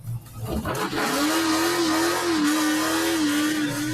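Car on Mickey Thompson tires engaging and accelerating in reverse, with a short thump followed by a loud, sustained engine roar and a steady whining pitch that rises slightly and holds, close by.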